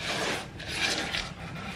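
Sourdough cookie dough being stirred in a bowl, a continuous close rasping and scraping that carries on without a break.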